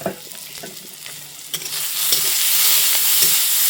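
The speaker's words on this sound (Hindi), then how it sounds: "इधर हो रही है बीन्स का फ्राई" Green beans fry in a pan in a village kitchen, with a few stirring clacks at first, then a broad sizzle that swells louder and holds steady from about halfway. No one speaks.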